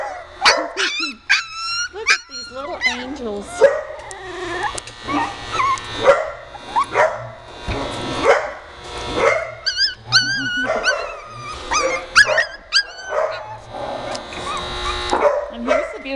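Small puppies yip, whimper and bark in rapid, high-pitched bursts close by, with a person speaking softly among them.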